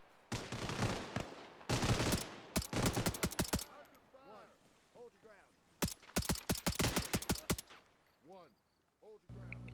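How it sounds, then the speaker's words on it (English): Gunfire from the DayZ video game: bursts of rapid automatic fire and clustered shots in several volleys, loud and close, separated by quieter gaps and short pitch-sweeping sounds, with a voice heard in between. "there's a lot of gunshots going out, and it's gonna bring unwanted attention"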